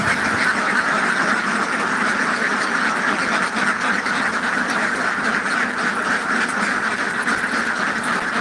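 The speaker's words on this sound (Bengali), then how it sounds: "আমাদের এগুলো মূলত রানিং ডিমের হাঁস" A dense flock of Indian Runner egg-laying ducks quacks nonstop at a hatchery, a loud, continuous overlapping chorus with no break, close and filling the whole stretch.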